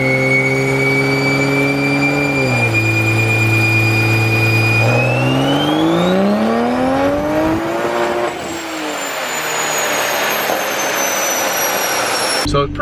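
A 2020 Toyota Supra on a dyno screams through a long, loud pull, revs climbing steadily to a peak before the engine cuts off abruptly at the end.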